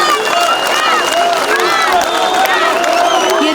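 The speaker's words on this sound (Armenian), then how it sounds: "ԲՀԿ առաջնորդին ծափերով են ճանապարհում համակիրները" Supporters of a party leader applaud and cheer as he is escorted out, a steady crowd roar of clapping and shouts under nearby voices.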